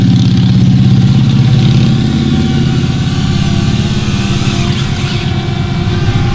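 A loud, close engine drones and rumbles continuously, a vehicle passing by with steady mid-pitched roar that slowly eases.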